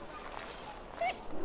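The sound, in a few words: wounded mabari dog whimpering in Dragon Age: Origins video game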